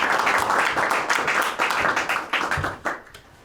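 An audience at a stage event breaks into steady applause for a guest invited up, a dense wash of clapping that swells, then thins and fades toward the end.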